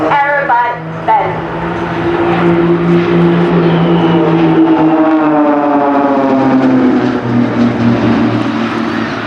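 Blades aerobatic team aircraft perform a flying display, engine notes swelling and sliding in pitch as they pull up and roll overhead, loud and sustained, with a voice speaking over them.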